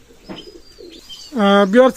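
Soft rustling and shuffling at a pigeon loft, then a Teddy pigeon gives a throaty, rolling coo near the end, close by and fairly loud.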